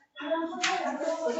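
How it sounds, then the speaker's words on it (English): A school classroom of students breaks into a loud group cheer with some clapping, a brief burst of mixed young voices close by. "That was quite a loud cheer."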